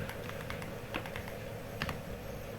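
Keys clatter on a computer keyboard while a pin header part is typed into PCB design software, a quick scattered run of light clicks with two louder bursts, close and alone.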